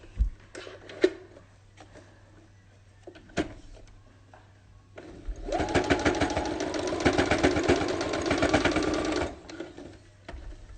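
A sewing machine stitches a bandana face mask. A few light taps and handling noises lead into a steady, rapid motor hum with a rhythmic needle chatter that runs for about four seconds and then stops.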